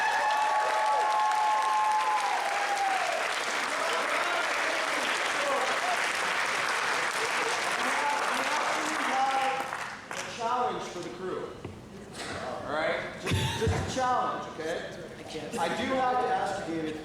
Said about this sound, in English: Let's give a round of applause for all the people that asked questions.